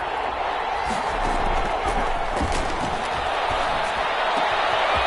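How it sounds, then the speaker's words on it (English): Stadium crowd in an American football video game roars steadily throughout, a dense, loud wash of cheering with a commentator talking over it. "the crowd getting into it as we come up on a big third down"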